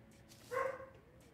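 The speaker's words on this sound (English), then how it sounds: "And there's the dog barking again." A dog in the game Terraria gives a single short bark. It is clear but fairly quiet against a soft in-game background.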